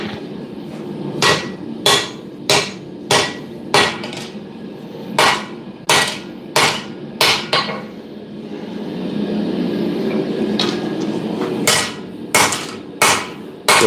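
A hammer strikes hot steel while forging a parang blade preform, sharp ringing blows landing in a steady rhythm, pausing briefly amid a low background rumble before resuming.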